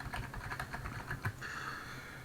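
A function is typed on a computer keyboard: a quick, close run of light key clicks, then a short pause before a softer continued patter, with no talk.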